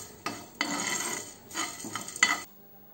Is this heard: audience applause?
no